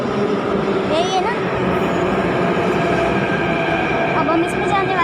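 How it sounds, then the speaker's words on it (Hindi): A metro train pulls into a busy station with a steady loud rumble and faint squeals of wheels while people talk close by over the noise. "हमारी नेक्स्ट मेट्रो आ चुकी है ना चाचू, यही है ना।"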